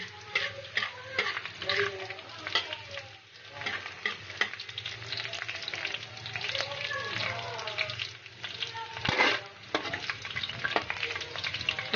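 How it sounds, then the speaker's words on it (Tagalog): Garlic frying in oil until brown for calderetang buto-buto, a steady sizzle with scattered stirring scrapes and clinks throughout, fairly close and moderately loud, with no clear talk. "Hintayin lang natin mag-brown yung ating bawang."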